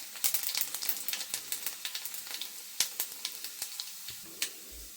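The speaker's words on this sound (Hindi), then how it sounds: "अब मैं डाल देती हूँ इसमें तड़का।" Hot oil crackles and spits in sharp irregular pops as garlic and spices hit the pan for a kadhi tempering, a close, lively sizzle with no one talking.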